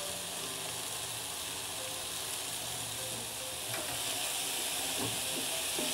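Ground ginger and garlic paste sizzling in a hot pan while cooking chicken Romano, a steady, dense hiss and crackle throughout, close and even, with a few brief stirring scrapes near the end.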